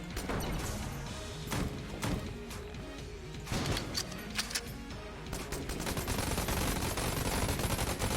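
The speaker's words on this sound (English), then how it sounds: "So these shots bounce, and it fires a rocket" Rapid gunfire from a gun with bouncing shots and a rocket launcher in the video game Enter the Gungeon, a dense stream of sharp bursts and crashes that keeps going loud throughout.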